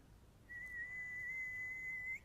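A man whistles a single steady, sustained note for nearly two seconds, imitating a man whistling as he rides a bike past on the road; clear and close.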